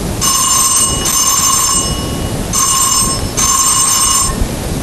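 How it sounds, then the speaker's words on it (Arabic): A telephone rings loudly in an indoor drama scene, sounding in long electronic bursts with short gaps between them, close and alone with no voices. "انا هرد على التليفون، يمكن هو."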